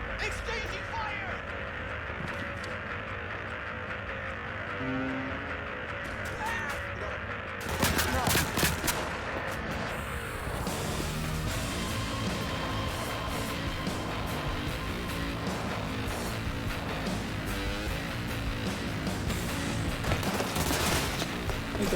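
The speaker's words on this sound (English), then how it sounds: "Exchanging fire!" A gunfight with NCPD police in a video game: sustained automatic fire and rapid shots rattle on, sharpening into louder bursts after the first few seconds and continuing steadily, with a voice talking over it.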